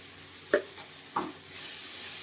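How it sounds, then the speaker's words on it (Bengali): Curry with ginger sautéing in a pan for a fish curry: a quiet low sizzle with a couple of brief scraping stirs, the frying hiss rising a little toward the end. "আদাটা দিয়ে কিন্তু আমি একটু ভালো করে নেড়ে ছেড়ে নিয়ে কষিয়ে নিয়েছি"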